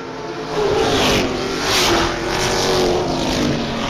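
Engines roar at an ABC Stock Car B-Group Feature race at Springport Motor Speedway, a loud continuous drone that swells and fades as the cars pass close by.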